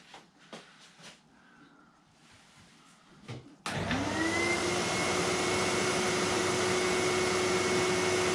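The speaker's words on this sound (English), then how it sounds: "I turn the suction on." Dust extraction suction for a biscuit joiner switches on abruptly after a few seconds of quiet room noise, then roars steadily and loudly with a rising whine that settles into a constant hum.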